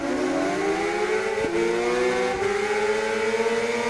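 Honda CBR 600RR race bike engines in Ride 3 at the Garda Lake start, a loud continuous high-pitched revving whine with rising gear-shift sweeps and overlapping engines from the pack.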